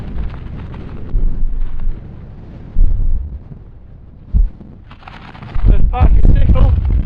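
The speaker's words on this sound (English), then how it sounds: "The wind at the top is brutal, but it is forecast to drop off a bit tonight" Strong, brutal wind on a mountain top near Loft Crag, with snow on the surrounding peaks. It buffets the microphone in heavy, rumbling gusts that swell and drop, with loud bursts toward the end.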